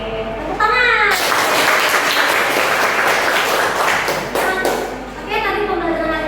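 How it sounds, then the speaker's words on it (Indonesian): Schoolchildren in a classroom history lesson break into loud, crowded clapping for about four seconds, with a teacher's voice talking just before and after the burst. "Oke, tepuk tangan."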